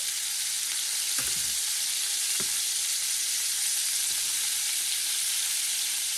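Pork shoulder pieces sear in a pan over medium-high heat for paella, giving a steady, close, dense sizzle with a few soft knocks as the meat is turned.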